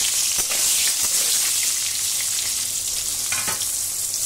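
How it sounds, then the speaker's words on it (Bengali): Salted pointed gourd (potol) slices finish frying in hot oil in a kadai, a dense steady sizzle with a few sharp utensil scrapes as the pieces are lifted out. "পটলগুলোকে এইভাবে ভেজে তুলে নিলাম"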